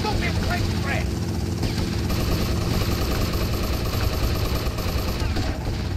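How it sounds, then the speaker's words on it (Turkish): Helicopter engine and rotor in GTA Vice City, a dense, loud, continuous roar filling the whole stretch, with voices and gunfire mixed in underneath. "Tommy, indir şu helikopteri."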